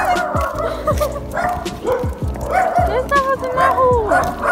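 A dog barks repeatedly on a street, a run of loud, close, rhythmic barks mixed with yips and whimpers, while people talk over it.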